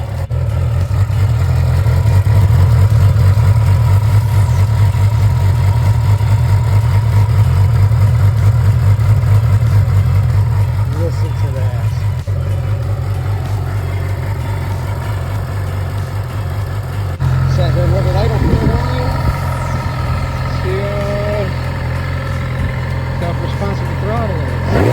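A 2008 Yamaha R6 motorcycle, restored after sitting seven years in a garage, idles after restarting: a steady, loud low drone that dips slightly midway and then picks up, with people talking over it.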